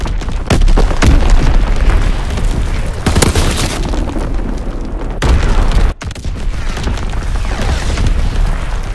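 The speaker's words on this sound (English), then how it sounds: "Incoming enemy artillery! Get to cover!" Enemy artillery barrage in Call of Duty: WWII, with loud repeated booming blasts and rumbling explosions close by, separated by a few sharp bursts over about nine seconds, with no talking.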